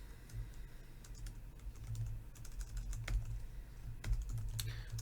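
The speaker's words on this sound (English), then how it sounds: "I'm going to hit enter a couple times" Someone presses the enter key on a computer keyboard among soft, quiet typing clicks, a few sharper taps standing out over low background hum.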